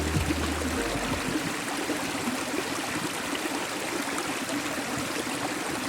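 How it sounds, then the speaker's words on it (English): Continuous rushing, splashing water from a tiny waterfall in Iceland close by, a steady bright wash of sound with no voices. "this tiny waterfall is the reason why I love Iceland so much"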